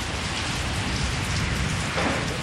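Steady heavy rain pours down in a dense, unbroken wash of hiss and patter, loud and close throughout with no pauses.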